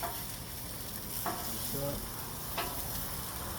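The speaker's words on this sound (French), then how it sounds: "là je fais griller les saucisses, je tourne souvent, un coup d'un côté, un coup de l'autre" Sausages grilling on a plancha griddle hiss with a soft, steady sizzle, broken by brief scraping clicks as they are turned, with a single short spoken word over it.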